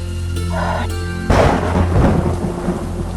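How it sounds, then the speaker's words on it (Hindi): Heavy rain hisses steadily during a thunderstorm, then a sudden loud thunder crack bursts in and rolls on beneath the downpour. "बाहर तो बहुत तेज बारिश हो रही है। जी, और बिजली भी बहुत कड़क रही है।"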